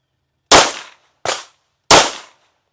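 Three sharp, loud pistol shots from a Fusion XP Pro Comp handgun, each crack ringing off with a short decay, spaced unevenly about a second apart with silence between them.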